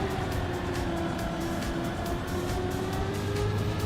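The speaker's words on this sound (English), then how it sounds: "you can hear that the engine's not where it needs to be" Car engine in the Trackmania racing game, a steady, loud, sustained drone with constant revs and no speech, lasting under four seconds.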